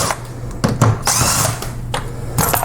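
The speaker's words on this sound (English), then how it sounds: "We will simply remove these screws." A power drill backing screws out of window sash locks on a double hung window, a loud close whirring run with short stops and restarts, no talk.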